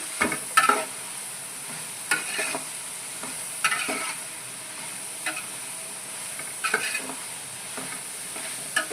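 Tomatoes and onions fry together in a large kadai, stirred with a utensil that scrapes and knocks against the pan at irregular intervals over a steady low sizzle, without any voices.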